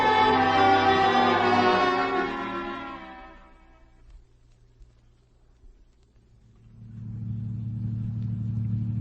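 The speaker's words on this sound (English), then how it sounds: "Where are we driving to, Chris?" Radio drama car effect with a steady mid-frequency engine rumble that fades to near silence midway, then returns as a loud, continuous low drone of a car driving, with no talk over it.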